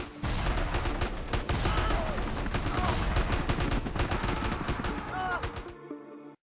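Dense, rapid gunfire from an attack crackles almost nonstop for about six seconds, loud with overlapping shots, then cuts off abruptly.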